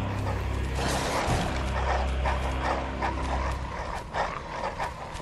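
Hostile dogs in Bloodborne bark, yip and whimper in loud bursts over a dense, rumbling game soundscape, several calls overlapping close by.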